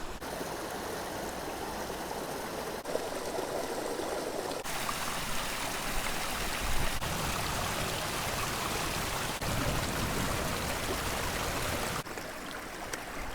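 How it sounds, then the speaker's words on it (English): A mountain stream flows on a backpacking trip, a steady, full rushing and trickling of water heard close and alone, without any voices. "This stream is one of my favorite places to take a break"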